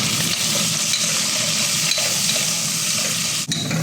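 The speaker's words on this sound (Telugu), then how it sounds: "ఉప్పు చేపలు కూడా కొంచెం బాగా వేగాయి చూడండి" Steady, dense sizzling of salted fish frying in hot oil, continuous and close, with occasional stirring scrapes and no voices.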